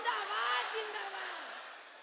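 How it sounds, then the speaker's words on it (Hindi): A large rally crowd in Bihar welcomes Prime Minister Narendra Modi with a loud, sustained roar of cheering and shouting that slowly fades over two seconds. "एक बार जोरदार ताली बजा के प्रधानमंत्री जी का स्वागत करें।"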